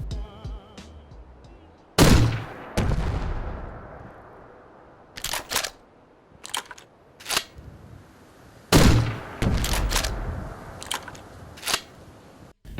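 A grenade launcher added by a Fallout 4 mod fires in-game in a series of sharp, heavy blasts, each a sudden loud thump with a short decaying tail, spaced irregularly with quiet gaps between them.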